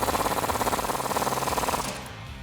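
A rapid rhythmic rattle comes from a ratchet or impact tool driving a 21mm socket onto the lower shock bolt of a 2009-2018 RAM 1500 during a lift kit install. It is loud and close, then cuts off and leaves a quieter tail.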